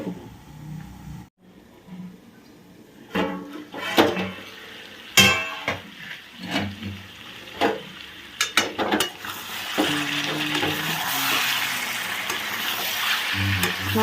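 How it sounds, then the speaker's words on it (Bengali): Mutton with raw tomato being stir-fried on low heat in a pan: steady close sizzling and frying with repeated scraping and stirring strokes of a spatula against the pot, growing into a dense hiss toward the end. "কম আঁচ করে ভালো করে কষিয়ে কষিয়ে চাপা দিয়ে দিই"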